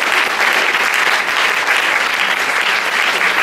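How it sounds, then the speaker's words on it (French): An audience at a talk gives a warm, sustained round of applause, dense steady clapping filling the room at an even level throughout. "on va applaudir chaleureusement"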